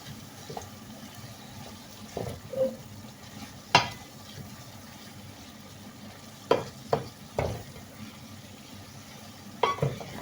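Peppers and tomato paste sautéing in a pan, a low steady sizzle broken by a few sharp knocks and scrapes of a utensil against the pan, fairly close.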